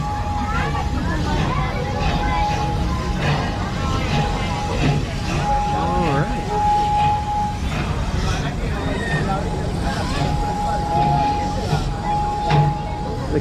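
Serengeti Express train ride at Busch Gardens Tampa Bay, Florida: a steady rumbling ride noise with a faint sustained tone and crowd chatter running throughout, people talking over it.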